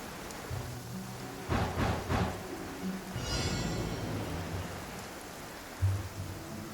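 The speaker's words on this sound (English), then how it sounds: "quite a downpour. Nothing will get done until it clears." Heavy rain pours down in the video game Genshin Impact, a steady hiss of falling water with a few louder bursts and low rumbles mixed in.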